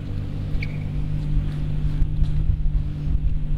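A Nissan GT-R idles with a steady, deep engine rumble and faint turbo whine, close and loud, holding an even tone with no talking over it.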